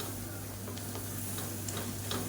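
Kashmiri chili powder and turmeric fry in oil for a tomato-garlic thokku, giving a quiet, steady sizzle with a few light stirring ticks.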